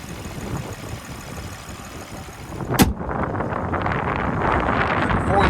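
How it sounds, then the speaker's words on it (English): Gusty outdoor wind buffets the microphone beside a 2026 BMW X7 xDrive40i M Sport Pro, a steady roaring rumble that swells louder toward the end after a brief sharp click. "so we can get out of this doggone wind"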